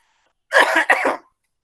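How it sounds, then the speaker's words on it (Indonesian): Two quick, harsh coughs in a row, close and fairly loud, with silence before and after. "Saya teriak-teriak loh ini sampai batuk-batuk ini"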